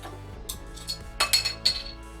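A German beer, Hell 'Das Blaue' from ABK, is opened and handled with glass, giving a few light close clinks and tings in quick succession over faint background noise, with no talking.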